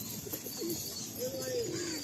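Pigeons in a breeding loft give soft cooing calls, a couple of low rising-falling coos over steady room noise.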